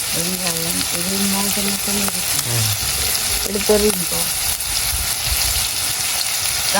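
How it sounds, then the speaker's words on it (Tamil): Onions and spice powder fry with mutton in a hot pan, a loud, continuous sizzle with stirring, while a voice talks over it in the first half. "ஓகே இப்போ கொஞ்சம் வெங்காயம் போடுவோம் என்ன தூளெல்லாம் போட்டு பிரட்டி போட்டு பொறிச்சிக்கலாம்"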